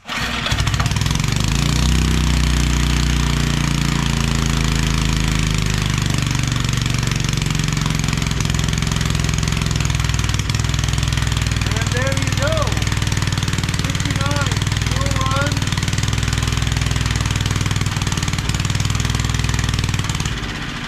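An old small lawn mower engine, Briggs or Tecumseh, taken off a real mower and unstarted for about ten years, runs steadily and loud throughout, a continuous low mechanical drone with faint voices briefly audible midway.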